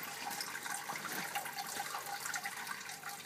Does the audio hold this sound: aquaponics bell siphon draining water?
yes